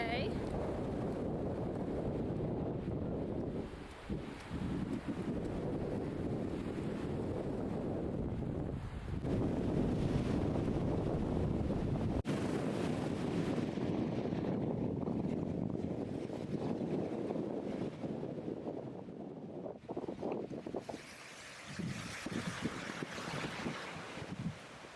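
Steady wind and surf at a clean, well-kept public beach on a sunny day, a continuous loud roar of gusts and breaking waves buffeting the microphone, with no voices heard.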